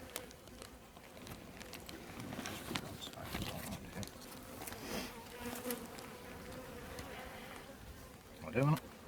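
Honeybees buzz around an open brown hive during a quick spring inspection, a faint continuous drone with scattered close passes and a louder buzz near the end.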